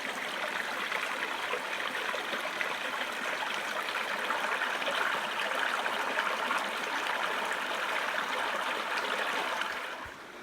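Creek water flows in a continuous, hissing rush heard close at water level, steady and moderately loud for about ten seconds before easing slightly at the end, with no voices.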